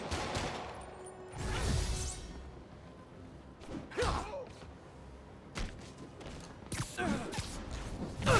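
Gunfire and impacts in the video game Spider-Man Remastered come as scattered bursts of shots and thuds, loud and sharp, separated by quieter stretches of background game sound.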